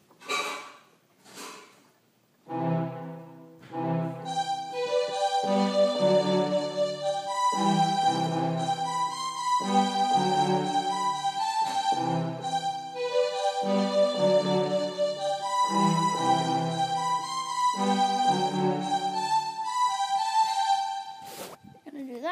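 A piano plays the chorus of a pop song with chords and a bright melody, steady and moderately loud after a few sparse opening notes.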